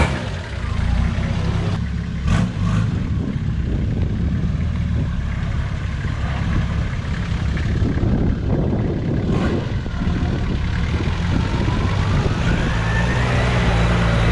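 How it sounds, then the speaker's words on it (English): A Nissan Patrol ute built for four-wheel driving is driven and turned around up close, its engine rumbling steadily and loudly throughout, with a few brief clanks and bumps along the way. "I'm going to flip the ute around"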